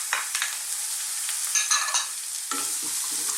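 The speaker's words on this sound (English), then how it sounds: "starts to cook in that beautiful oil, let's add our onion" Chopped onion, celery and carrot sizzle in hot oil in a pan, a soft steady hiss broken by a few stirring scrapes and a louder burst as more vegetables go in.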